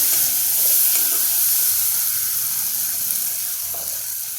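Thukpa, a vegetable noodle soup, is stirred in a pan, giving a steady hissing sizzle with faint scraping from the stirring and no talk.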